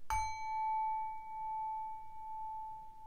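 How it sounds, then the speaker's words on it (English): A single small bell is struck once during a tarot card reading, giving a sharp ding that rings on as a pure, slowly fading tone in a quiet room. "Gonna ring the bell."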